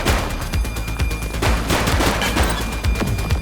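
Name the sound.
gunfire in the police video game The Precinct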